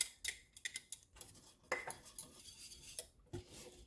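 Grated block cheese is stirred into a broccoli sauce, the spoon knocking and scraping against the pot in quick, uneven clinks, close but quiet, with no talking.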